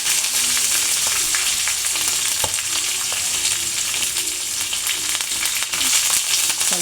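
Tempering spices and green chillies sizzle hard in sunflower oil as tomato chutney begins, a loud, continuous close frying hiss with occasional light stirring clicks.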